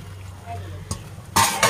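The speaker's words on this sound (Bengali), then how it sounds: "আর বেগুন গুলো এখন দিয়ে দিচ্ছি।" Eggplant pieces go into a pan with tomatoes and poppy seed paste, giving a few clattering clinks of utensils against the pan followed by a brief louder scrape and stir, close up.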